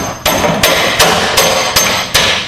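Six heavy thumps on the body metal of a 1964 Ford Galaxie, struck by a fist at a steady pace, over a constant background hiss.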